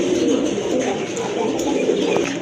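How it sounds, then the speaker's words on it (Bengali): A pair of Mussadam pigeons coo in a soft, continuous rolling murmur, close and steady throughout. "আরেক জোড়া চুইটার মুসাদ্দম কবুতর খাড়া জুটির কবুতর"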